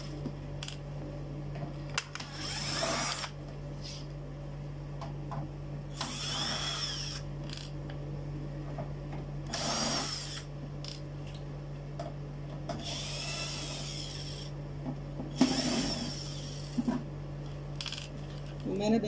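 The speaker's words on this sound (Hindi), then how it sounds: "तो मैं इसके स्क्रू ओपन करने जा रहा हूँ।" Small metal screws being backed out of the casing of an old Sony Aiwa music system, with repeated clicky scraping bursts of a screwdriver and faint tool clatter under a steady low hum, with someone talking at times.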